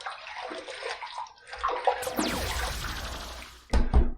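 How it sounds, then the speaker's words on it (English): Water splashed onto a face from a running bathroom tap before a wet shave with a safety razor, a brief gush and splatter rising midway, then a louder slosh near the end, with no talk. "let's wet the face."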